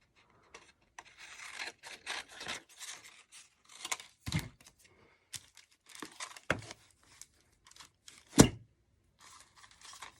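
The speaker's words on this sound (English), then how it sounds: "I'm just going to keep covering these pieces, trimming off the extra for now." Scissors trim excess paper covering chipboard pieces for a sculpture, giving intermittent snips and crinkly rustles with a few sharper cuts, close and fairly quiet, no talking.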